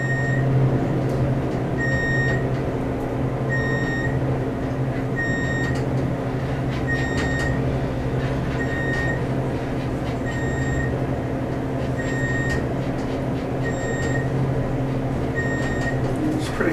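A ThyssenKrupp traction elevator runs steadily past floors, with a constant low mechanical hum and rumble under regular short electronic beeps as each floor goes by, about once every two seconds.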